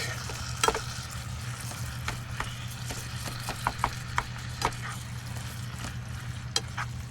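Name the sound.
food sizzling while cooking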